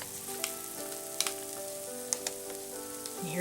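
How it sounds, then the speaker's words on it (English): Butter-roasted pecans sizzle softly in a hot pan, a steady fine crackle with scattered sharp pops, close and quiet, with no talk. "Listen to the sizzle."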